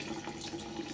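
Tap water runs steadily into a cooking pot for Afghan ash noodle soup in a Kabul kitchen, a soft continuous splashing hiss with no pauses.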